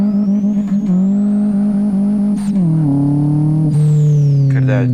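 A Saveiro 1.6 single-turbo engine in the racing game Live for Speed pulls hard at full throttle in second gear, a loud steady droning note that climbs, dips at a shift, then keeps rising.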